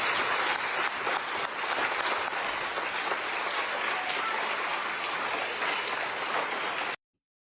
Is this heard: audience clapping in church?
yes